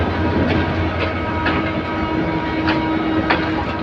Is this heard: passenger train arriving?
yes